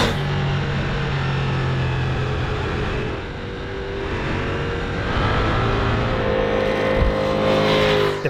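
A Ducati Multistrada V4 Pikes Peak motorcycle engine runs loud and close throughout, holding a steady roar that dips briefly, then climbs as the revs rise with a sharp pop near the end.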